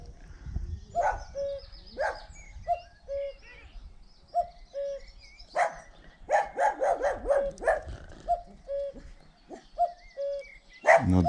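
A cuckoo repeats its two-note call again and again outdoors, moderately near, while a dog barks in short bursts over it, the barking busiest toward the end.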